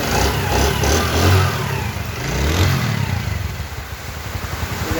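A Honda CD80 motorcycle engine runs close by, revving up twice and then settling into a steady, throbbing idle.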